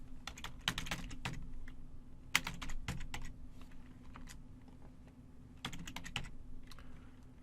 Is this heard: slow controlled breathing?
no